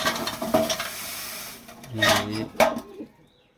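Feed tray pulled out of an animal cage, a few scraping, clattering knocks of the tray against the cage, then two sharper rattles before it falls quiet.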